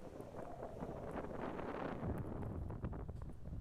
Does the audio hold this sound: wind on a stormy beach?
yes